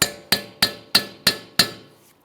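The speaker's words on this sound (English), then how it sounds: "we'll just break it free with a hammer and chisel" A hammer strikes a chisel to free a rusted, stuck snap ring on a 2006-2012 Ford Fusion front wheel bearing, six sharp metallic taps in an even rhythm, close and loud with brief ringing decays.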